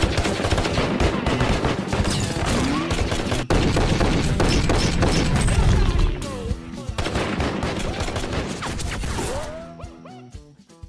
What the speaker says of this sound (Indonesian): Arthur terus melatih Stephen dalam menembak di halaman belakang rumahnya.